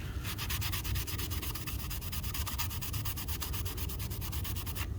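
Steady, rapid back-and-forth scuffing with an abrasive pad on a car climate-control part, close up, dozens of even strokes over a low background hum.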